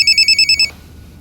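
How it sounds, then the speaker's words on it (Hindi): A telephone rings in quick, evenly spaced electronic trills, about six short pulses close and clear, then stops abruptly into quiet room tone. "रिजवान फोन उठाओ, हो सकता है किडनैपर्स को कॉल हो।"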